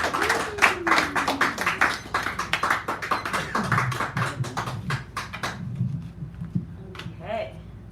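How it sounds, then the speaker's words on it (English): A small cafe poetry-hour audience claps for a poet in a short burst of sharp, close hand claps that thins out and fades, with talking over it. "Allie, give it a round of applause, please"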